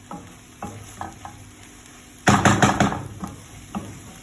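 Bitter gourd sizzles in a pan with mushroom and egg, a few light spatula taps giving way to a loud burst of stir-frying hiss and clatter, close by with no talking.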